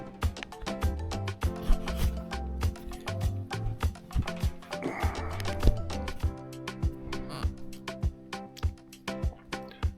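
Wing ribs for a J3 Cub model aircraft being sanded by hand, with steady rubbing, scraping strokes repeating close up over several seconds and no voices.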